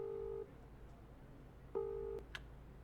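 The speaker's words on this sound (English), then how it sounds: "You quickly pulled out your cell phone and called up the apartment company." Cell phone being dialed to call an apartment company: a few short electronic keypad tones, one steady beep, a pause, then another beep and a brief chirp, clear and close over a quiet room hum.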